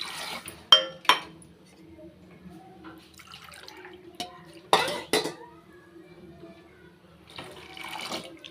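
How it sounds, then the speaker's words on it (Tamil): Water pours into milk in a cooking pot with a few short splashing bursts and clinks of a metal tumbler against the pot, separated by quiet gaps. "இப்போ ரெண்டு டம்ளர் அளவு வந்து தண்ணி சேர்த்துக்கிறேன்"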